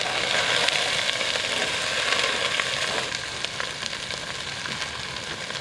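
Diced onion and garlic sizzle and fry loudly in a pot on a stove, a steady crackling hiss with occasional sharper pops, close and continuous with no talking.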